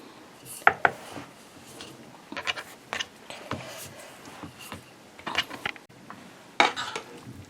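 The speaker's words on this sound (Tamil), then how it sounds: "இனி நாங்கள் ரொட்டியை உருட்டுவோம்." Roti dough brushed with oil is rolled out, heard as irregular soft rubbing strokes and light wooden knocks and clicks from the rolling pin and board, close and fairly quiet, with no talk.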